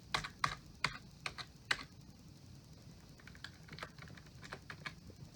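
Keys clatter on a Dell Dimension E510 computer keyboard, with an irregular run of crisp close taps and presses over a low background hum.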